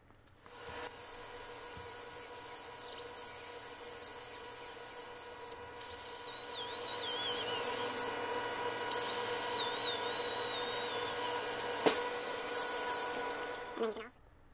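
A dental diamond burr smoothing the walls of a ceramic veneer preparation, a continuous high-pitched whine that shifts in pitch as it works, with short pauses, over steady background hum.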